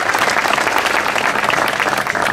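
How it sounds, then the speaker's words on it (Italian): Steady crowd applause greets the winner of the 38th Coppa Sila race in Calabria, southern Italy, a dense, loud wash of clapping that holds evenly throughout. "Un forte applauso e cedo la parola al vincitore a questo punto"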